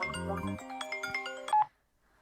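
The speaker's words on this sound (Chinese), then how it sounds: "哟，霍大少爷主动给我打电话。" A phone ringtone for an incoming call plays as a short, bright melodic tune, fairly close and clear. It cuts off after about a second and a half, leaving near silence.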